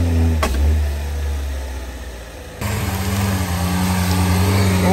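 A Niva off-road sport car's engine runs loudly nearby, easing off and then surging back with a sudden rise in revs as it drives on rough terrain.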